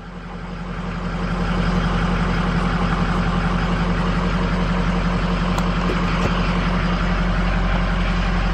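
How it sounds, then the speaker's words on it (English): A Ford 6.0 Powerstroke diesel pickup truck engine idles close by, a loud steady rumble that swells during the first second then holds even and unbroken. "Truck's pretty loud"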